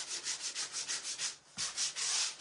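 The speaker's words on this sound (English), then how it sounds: "then I'm gonna take my sander" An electric sander lightly passes over a painted wooden frame in a quick series of short rhythmic rubbing strokes, close and fairly quiet, with a brief pause before the strokes resume.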